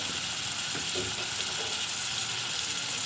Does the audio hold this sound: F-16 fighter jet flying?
no